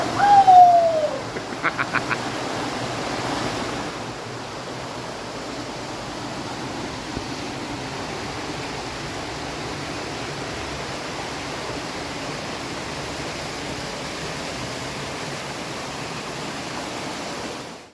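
Rushing river water in Clydach Gorge, Wales, a steady broadband roar that fills the whole stretch, with a brief bird call near the start.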